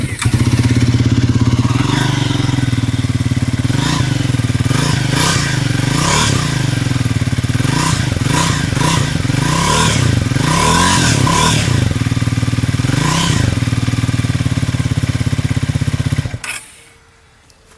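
Triumph Thruxton 400 single-cylinder café racer motorcycle, 2025 model, loud close exhaust burbling at idle with repeated throttle blips rising and falling, ending abruptly when the engine cuts off.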